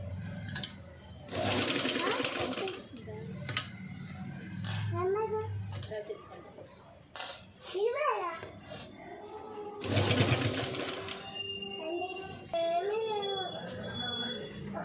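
Sewing machine stitching the neckline of a patchwork blouse in short bursts, starting and stopping between stretches of someone talking.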